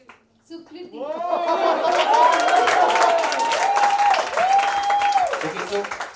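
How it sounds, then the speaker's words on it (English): Audience at a college festival event cheering and applauding, a swelling wave of claps and shouts that stays loud and dense for several seconds, with a voice ringing out over the crowd. "Big cheer for Bhavi, Ishita and Sukriti."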